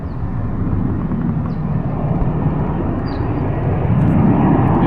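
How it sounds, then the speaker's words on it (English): Aeroplane coming in to land near Alice Springs, a loud, steady jet rumble and roar growing slightly louder as it approaches, close overhead and continuous. "There's an aeroplane literally coming into land."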